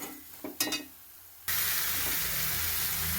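Cassava dropped into hot oil with chili powder in a pan erupts into loud, steady sizzling after a few quiet clinks, the frying hiss continuing strongly to the end.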